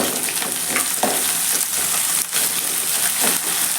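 Curry leaves sizzle and crackle in hot oil for an onion vatha kulambu, a steady close frying hiss with small pops and stirring scrapes and no talking.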